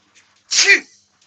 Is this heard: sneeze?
yes